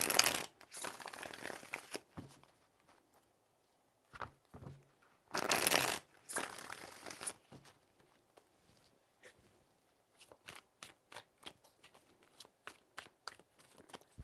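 Tarot cards shuffled by hand, with several bursts of riffling, quiet pauses between them, then a string of crisp card taps and flicks.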